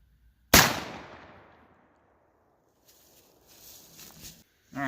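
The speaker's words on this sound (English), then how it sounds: "I'm just shooting your standard Winchester rifled slugs here" A single loud blast from a Mossberg 500 12 gauge shotgun firing a Winchester rifled slug, a sharp close report with a long fading tail, followed by faint shuffling and small movement sounds.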